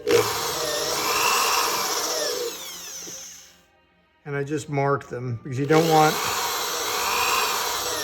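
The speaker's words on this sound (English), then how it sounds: "Then it's just a matter of drilling through here to give you your pilot holes" A power drill bores pilot holes through a taped amplifier chassis, whining loudly for about three seconds, stopping while someone talks, then starting again for a long steady run.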